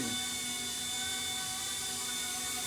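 A repaired MD500 model helicopter flies nearby, giving a steady, high-pitched whine with strong harmonic tones and a rotor buzz that stays level and loud throughout.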